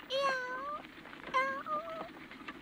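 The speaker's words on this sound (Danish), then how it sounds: "se en lille killing" A small kitten mews several times in a row, clear, close meows with a short pause between the first and later calls, heard alone without talk, in a Danish-dubbed Moomin animated film.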